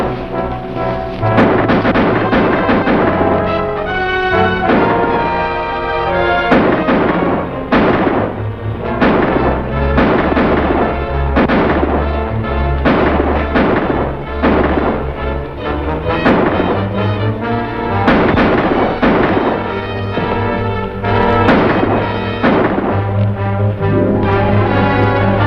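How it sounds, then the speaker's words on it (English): Gunfire in a shootout from a 1950 western film, loud repeated bursts of shots and booming reports over a dense, sustained orchestral-style bed, with no talking. "Stay here and keep shooting."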